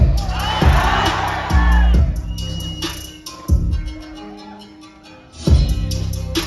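A university event audience shouts and cheers loudly over amplified music, with repeated surging crowd roars close by filling the whole stretch.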